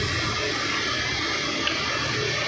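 Water, about six kilos of it, pours steadily and loudly into flour for shakarpara dough, a continuous rushing splash with no pauses.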